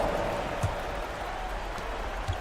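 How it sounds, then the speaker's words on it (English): Steady arena crowd applause for a dance crew at a basketball game, a broad wash of clapping and cheering that holds at an even level throughout. "Give them a round of applause."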